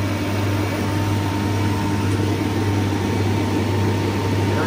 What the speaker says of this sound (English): All right, we got the recovery machine going.